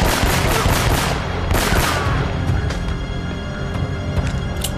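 Pistol shots in Uncharted: Drake's Fortune against an enemy, a loud, close volley of rapid sharp cracks that thins into scattered single shots with no voices.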